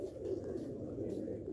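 Sialkoti breeder pigeons coo in a low, continuous murmur, several birds overlapping steadily and close by with no pauses.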